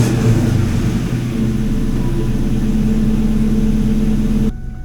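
A 2002 Ford Mustang GT V8 runs steadily at a loud, close idle with a deep droning rumble, wind buffeting in the background, before the engine cuts off abruptly near the end.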